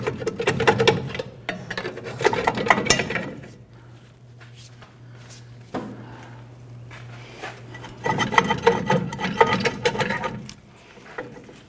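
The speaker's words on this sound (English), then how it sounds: "Just using our pry bar, we're gently walking the drum off." Pry bar scraping and knocking as a rear brake drum is worked off a 1994-2004 Chevrolet S-10, with bursts of rubbing, rasping metal contact separated by a quieter pause, close up with no talk.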